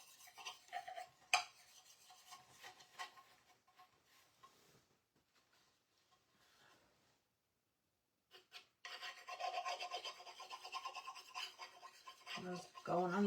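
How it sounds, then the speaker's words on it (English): Sandpaper rubbing along the edges of a round wooden cutting board, a dry rasping scrape in bursts, faint at first, then a pause before louder, steadier sanding strokes return near the end. "we can sand this back and make this even more chippy"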